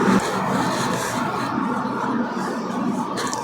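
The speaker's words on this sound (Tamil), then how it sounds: "இந்த துணியை வந்து நான் இப்போ ரெண்டாக மடிச்சுக்கிறேன்" Silk fabric for a one-year-old's skirt and blouse is folded in two, giving a steady close-up rubbing and scraping rustle of cloth that continues throughout.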